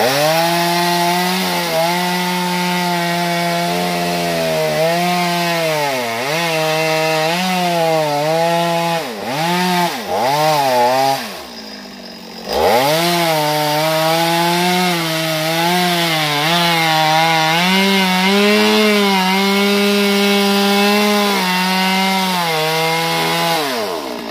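Saw running steadily while cutting two dead kapok trees from up in the treetop, a continuous pitched engine whine that rises and dips with the load, briefly cutting out near the middle before resuming.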